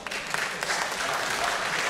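An audience at a film meeting during the All About Freedom festival breaks into steady, dense applause, many hands clapping together in a full, sustained wash of sound.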